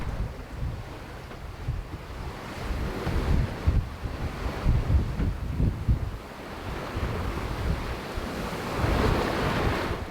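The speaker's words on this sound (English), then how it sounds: "the wind dropped even more" Sailing at sea near Carriacou, with steady wind buffeting the microphone and waves washing and surging around the boat's hull. The sound is a continuous, fairly loud roar with rolling swells throughout, and no voices.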